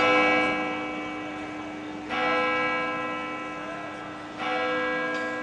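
A church bell rings out at noon with a bright, sustained metallic tone, struck three times with long ringing decays between strikes, carrying clearly at moderate distance.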